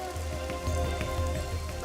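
Rain falls steadily onto a surface, a dense, even patter with scattered distinct drops standing out now and then. A low background hum runs underneath, and no voices are present.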